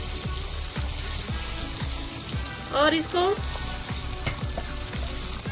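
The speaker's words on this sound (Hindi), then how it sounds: "ग्राइंडर में वही चनों का पानी डालकर बकाया मसाला भी उतारकर वो मैं इसमें डाल" Chickpea water and ground masala poured into a hot pan sizzle and fry steadily, with rhythmic stirring scrapes and a brief pouring splash in the middle; someone speaks a few words softly over it.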